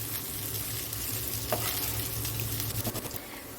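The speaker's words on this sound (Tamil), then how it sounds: "இப்போ நல்லா வந்து மிக்ஸ் பண்ணி விட்டுருங்க அதில்." Crumbled idiyappam (string hoppers) is tossed and stirred in a frying pan, a close, steady sizzle with scraping spatula strokes that become a quick run of knocks toward the end.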